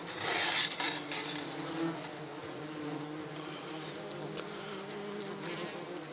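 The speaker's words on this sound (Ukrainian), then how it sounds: "Оси вилазять." Wasps swarm out of an opened beehive, giving a dense, steady buzzing of many insects close by, with no talk.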